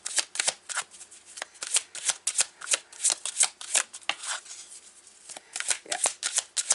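Tarot cards are shuffled by hand, close and crisp, in a fast irregular series of riffling flicks and soft slaps with short pauses between bursts.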